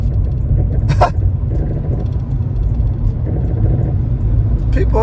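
Road traffic rumbling past, a steady low engine drone of passing cars with brief higher swishes, moderately loud and continuous.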